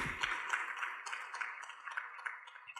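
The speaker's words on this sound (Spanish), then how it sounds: "Denle un aplauso al Señor" A church congregation claps together at a worship service, a steady rhythmic beat of many hands sounding faint and somewhat distant in a reverberant hall.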